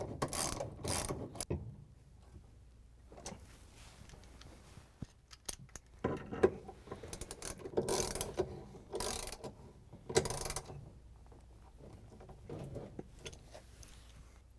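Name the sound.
ratchet with 1/2-inch socket and extension tightening bolt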